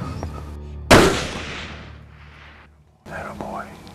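A single loud, sharp rifle shot fired while hunting, close and sudden, followed by a long decaying echo rolling away before quiet voices resume nearby.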